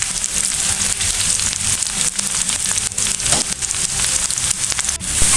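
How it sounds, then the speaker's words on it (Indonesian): Shallots frying in hot oil for sambal, a dense, steady sizzle with constant crackling and popping up close, loud and unbroken. "Bawangnya kita goreng sampai kuning ya Bunda, sampai agak masak dan wangi."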